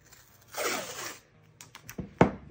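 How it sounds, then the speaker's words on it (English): A strip of tape is pulled off the roll in one quick, ripping burst to tape off the edges of a wooden charcuterie board, followed by a few soft handling taps and a sharp snap. No one speaks. "now I'm going to tape off the edges"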